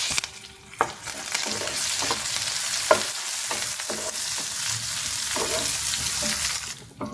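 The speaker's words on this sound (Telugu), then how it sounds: "కొద్దిగా కరివేపాకు వేసుకొని ఫ్రై చేసేసుకుందాం." Cumin, chopped green chilies, onions and curry leaves frying steadily in hot oil, a continuous close sizzle broken by several sharp clinks and scrapes of a spoon stirring the pan.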